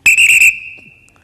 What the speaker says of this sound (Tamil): கண்டக்டர் விசில் அடிச்சாதான் பஸ் கிளம்பும்